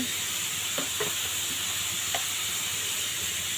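Chicken gizzards and potatoes with spices sauté in a pan, giving a steady close sizzle and hiss with a few light stirring clinks and scrapes, no speech.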